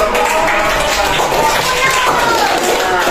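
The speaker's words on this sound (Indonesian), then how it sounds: "Tepuk tangan." Fifth-grade students in a classroom clap together in a sustained, dense burst of applause, with children's voices mixed in throughout.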